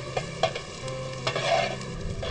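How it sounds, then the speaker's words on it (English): Chopped onions frying with whole spices in a hot pan, a steady close sizzle with spluttering pops and occasional stirring scrapes, no voices. "I'm adding chopped onion to it"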